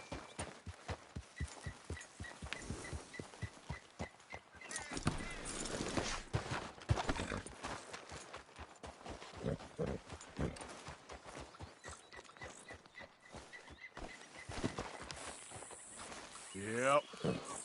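Horse hooves clip-clopping in Red Dead Redemption 2, a steady regular beat of walking strides through most of the stretch, with game ambience and occasional voices around it.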